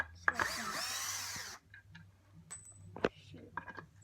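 A power drill whirs in a sustained burst while driving screws into a launch tower build, then stops, followed by quieter clicks and handling noises nearby.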